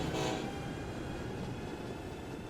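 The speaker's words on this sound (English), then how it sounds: "Let all these trains go by." Trains passing by in the video game Transport Fever, a continuous rumble of rolling rail cars with a brief brighter burst near the start, fairly quiet and steady, with no talking.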